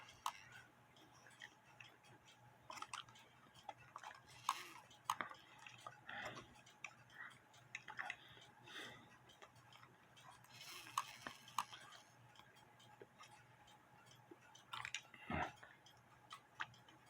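Small triple-plate DBGM cuckoo clock under repair, its pendulum leader wire ticking: a faint, steady, even tick-tock with light clicks of handling around it.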